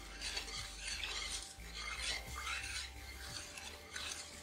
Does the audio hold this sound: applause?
no